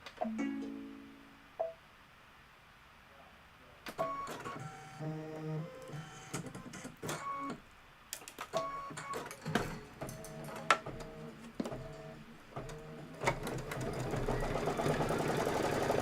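A sewing machine stitches in short bursts after being rethreaded. Quick mechanical whirs and clatters start and stop, growing longer and steadier toward a continuous run near the end, heard close and alone.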